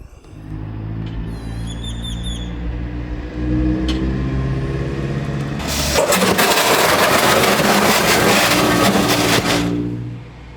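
A rebuilt Toyota Tacoma truck idles with a low rumbling engine, faint chirps above it, then revs louder and drives off, the roar swelling and holding before easing.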